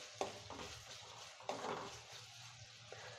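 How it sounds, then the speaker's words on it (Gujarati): Onion, tomato and red chilli powder with other spices sautéed in a pan over a low gas flame for a Kathiyawadi dish. A steady soft sizzle runs under a few scraping spoon strokes, with no talking. "ગેસની ફ્લેમ ધીમી રાખી અને થોડીવાર ટમેટાને આ રીતે સાંતળી લેશું."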